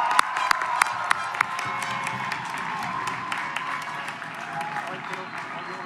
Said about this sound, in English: How about one more round of applause for our newest